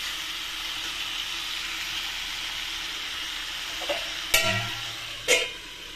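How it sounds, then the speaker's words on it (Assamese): Meat fries in a pan with a steady soft sizzle throughout, joined near the end by a couple of brief sharp clanks from a utensil against the pan. "মাংস ফ্ৰাই কৰি আছো"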